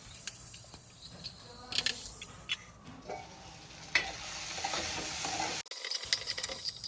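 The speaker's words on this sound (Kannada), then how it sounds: "ಬದನೆಕಾಯಿನ ಚೆನ್ನಾಗಿ ಫ್ರೈ ಮಾಡ್ಕೊಳ್ಬೇಕು" Brinjal frying with onion in a pan, a steady sizzling hiss with occasional stirring scrapes and clinks, close by, with a brief cut near the end.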